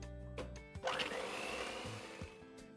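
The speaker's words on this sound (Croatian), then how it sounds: "To ćemo sve fino dobro da umutimo." An electric mixer whisks eggs with vanilla sugar and brown sugar for cake batter, a continuous whirring motor drone that starts after a brief clatter and holds steady, quiet but close.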